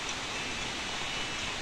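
Steady rain falls on a mountain farm, an even, unbroken wash of hiss with no voices.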